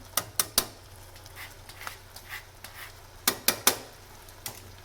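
A spoon stirs shrimp risotto with lemon zest in a pan, clinking sharply against the metal in quiet bursts of taps with soft scraping between.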